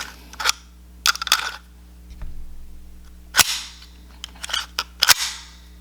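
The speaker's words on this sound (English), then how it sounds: "with the original magazine, right, I can just put it into the gun, no issues" A handful of sharp metallic clacks and clicks sound close up as an original magazine is slid into a Makarov pistol, with short gaps between the snaps over a quiet low hum.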